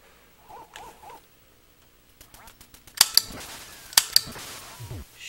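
Duck Hunt on the NES: a few quacks, then sharp electronic gunshot cracks fired at ducks, two pairs of quick shots a second apart, followed by a short falling tone.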